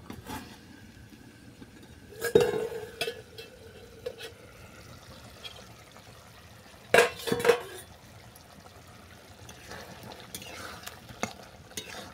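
Mango chicken curry stirred in a pot on the stove, with a quiet, steady simmer throughout and two brief bursts of spoon scraping and clatter against the pot partway through.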